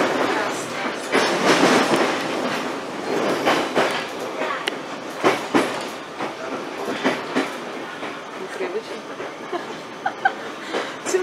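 A tram rumbles along its rails with a steady roar and occasional clanks and clicks, heard from on board, loud and continuous throughout.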